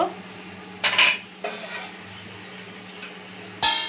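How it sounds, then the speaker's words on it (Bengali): A lid goes onto a cooking pot while greens cook: a few sharp metallic clanks and rattles, one near the start and another at the end, separated by quiet kitchen background. "এখন আমি ঢাকনা দিয়ে ঢেকে দিব"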